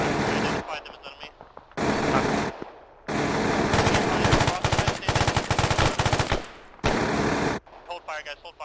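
Arma 3 firefight: loud, close bursts of automatic gunfire in several long volleys, broken by short pauses, with rapid shots crackling through the middle stretch.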